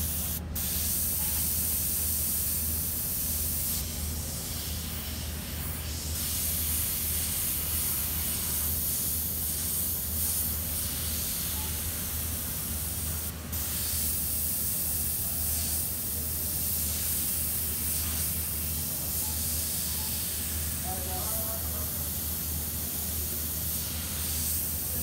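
An airbrush sprays paint onto a t-shirt, adding highlights to a painted cat's eyes, giving a steady, close hiss that runs almost without break, with a few brief dips and bursts.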